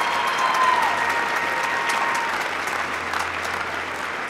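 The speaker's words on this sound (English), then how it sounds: "can everyone join me in another round of applause for our wonderful faculty at Oregon Tech" A commencement crowd at Oregon Tech applauds the faculty, dense sustained clapping that fills the hall and tapers slightly toward the end.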